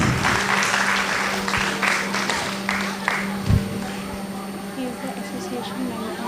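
Audience applause for a guest at a kids' school annual function in Bangalore, uneven clapping mixed with crowd noise and a steady electrical hum, with voices over it.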